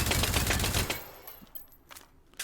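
Rapid, closely spaced gunshots from a weapon in the Hot Dogs Horseshoes & Hand Grenades VR game, fired at a spawnable target, a loud burst of about a second, then a few scattered shots and clicks.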